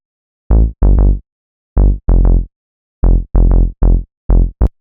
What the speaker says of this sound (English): Next, I added this cool but simple saw bass.